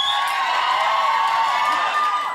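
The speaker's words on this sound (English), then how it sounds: "Don't cheer every time you see him." Studio audience on a talk show cheers and whoops for a guest, a loud sustained roar of crowd voices filling the room throughout.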